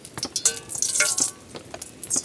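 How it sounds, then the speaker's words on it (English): Garlic and ginger sauté in hot coconut oil at a rainy campsite, crackling and sizzling in bursts with occasional stirring clinks from the pan, close and fairly loud, with no talking. "get out my coconut oil, garlic and ginger, and we'll saute that"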